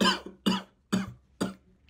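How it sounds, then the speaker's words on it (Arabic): Four sharp coughs spaced about half a second apart, close and fairly loud with brief quiet gaps, from a person who has just sniffed a packet of spicy Korean noodle sauce. "ده انا شميته بس كحيت"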